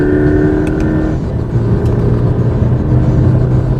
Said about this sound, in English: trademark Subaru boxer throb is still evident, especially as revs rise